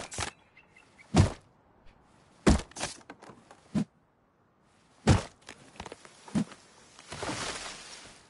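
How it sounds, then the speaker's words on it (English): Gunshots in the survival video game Rust, several sharp isolated cracks spaced irregularly across a quiet background, some louder and some fainter, ending in a burst of noise. "I hear those gunshots in the distance."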